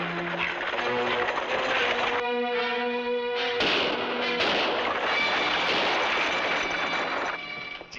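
Rifles fire in a shootout in a 1957 western adventure TV show, with several sharp shot cracks and a burst of noise rising over loud dramatic orchestral music.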